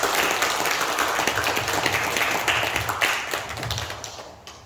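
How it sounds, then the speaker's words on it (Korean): An audience claps and applauds at a traditional Korean dance performance event, a dense, steady burst of many hands that holds strong and then gradually thins and fades toward the end. "여러분 박수 부탁드리겠습니다"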